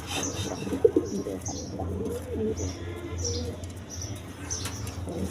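Lahori pigeons in a coop giving soft, low cooing calls with a couple of sharper chirps and brief wing flaps, fairly close, with some voices faintly in the background.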